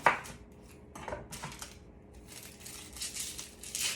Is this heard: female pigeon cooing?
no